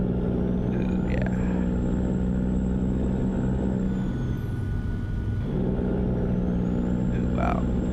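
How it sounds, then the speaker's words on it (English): A modded truck in a convoy truck simulator game, its engine rumbling in a steady low drone with layered tonal hum, continuous and close, while a voice talks over it. "This truck just sounds so nice."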